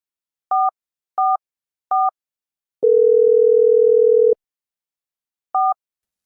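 A phone line sounds three short electronic beeps, then a long steady tone, followed by one more short beep after a pause.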